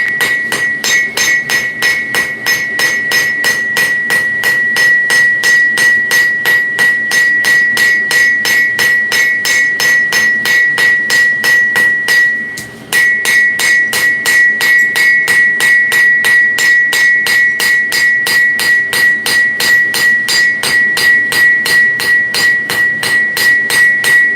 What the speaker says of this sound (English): What we're going to see happen is as I start forging in those bevels